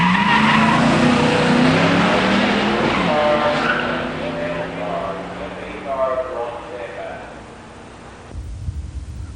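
Two Mustang 302 five-speed cars, an '87 LX HO and an '86 GT, launching at a drag strip with tire squeal and engine roar that fade away down the track while an announcer talks over it.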